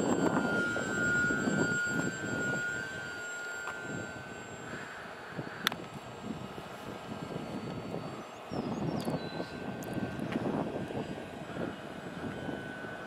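A model airplane's engine drones steadily at a distance through a long stretch of flight, with the plane carrying added weight, a faint whiny buzz over breezy outdoor background with no talk.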